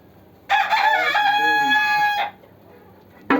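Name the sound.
chickens clucking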